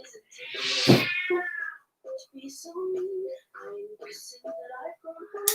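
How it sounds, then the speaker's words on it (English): Cats fight outside. One loud, drawn-out yowl rings out early, followed by a string of shorter, fainter cries and growls. "I think there's a cat fight happening."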